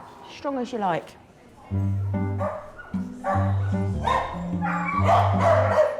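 Dogs bark and yip in a busy veterinary clinic reception area, several sharp barks and whimpers mixed with steady low hum and people talking nearby.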